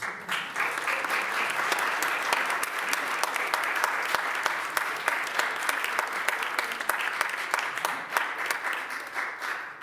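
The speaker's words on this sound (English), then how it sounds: "would you please give yourself a round of applause?" A Unitarian Universalist congregation applauds itself, a sustained, loud burst of many hands clapping in a hall that holds steady for about ten seconds.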